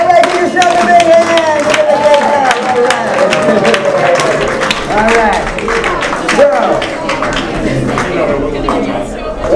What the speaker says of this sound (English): All right, give yourself a big hand.